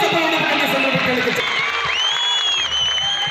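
Loud crowd at an outdoor political rally in Nehru Maidan, Hubballi, applauding in a steady dense wash of clapping with some whistles and cheers, continuous across the whole stretch.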